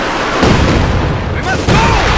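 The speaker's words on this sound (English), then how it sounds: "Oh, he's got a Katusha." Katyusha rocket artillery launching in Company of Heroes 2: a loud roaring whoosh of rocket fire and rumbling blasts fills the short moment, mixed with someone talking over it.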